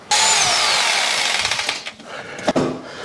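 Electric drill boring through a thin wall, a loud continuous whine with rising pitch that grinds on for about two seconds, then a short sharp burst near the end as the bit catches.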